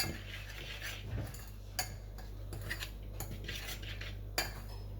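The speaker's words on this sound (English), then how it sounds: "Then we mix them all together." A spoon mixes gluten-free dark chocolate cake ingredients in a bowl, giving close, quiet scraping with sharp clinks of the spoon on the bowl at irregular moments over a low steady hum.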